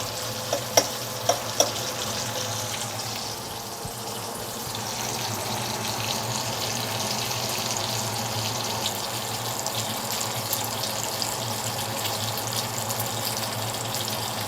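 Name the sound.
bacon frying in a pan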